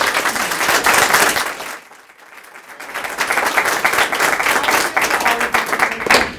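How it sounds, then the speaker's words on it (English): Audience applause at a college talks event, loud dense clapping that dips briefly after about two seconds, then swells back to a sustained full round of clapping. "How about another round of applause?"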